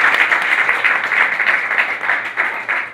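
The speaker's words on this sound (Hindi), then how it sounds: "एक बार ताली होनी चाहिए" Audience applause at a public talk in Bodla, Chhattisgarh, a dense, steady wash of many hands clapping close and loud for the full three seconds, with no voices over it.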